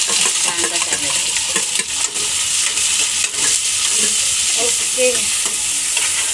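Onion and tomato frying in a pan, with a loud, dense sizzle running throughout while a utensil stirs and clinks against the pan, and a brief voice speaking once.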